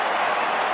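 Brief burst of crowd cheering and applause at an AFL football match, West Coast against Fremantle, a broad wash of noise from a large stadium audience.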